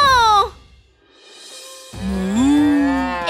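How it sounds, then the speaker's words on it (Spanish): Cartoon-style cow moo, a loud drawn-out low call that rises and falls, preceded by a brief higher-pitched vocal sound and a short quiet gap. "¡Ese es el sonido de una vaca!"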